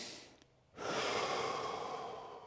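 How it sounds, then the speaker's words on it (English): Calm nasal breathing during a gentle hamstring stretch: a soft exhale fades, a brief pause, then a long steady inhale through the nose, close and quiet with no talking. "Relax, nasal breathing, calm breaths."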